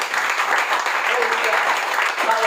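Church congregation clapping together in praise during a Filipino worship service, a steady dense wash of many hands with voices mixed in throughout.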